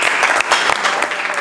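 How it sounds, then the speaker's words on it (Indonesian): Steady applause from a classroom group of students, dense clapping sustained throughout at a fairly loud level, with no voices standing out. "Tepuk tangan dulu untuk Rizik."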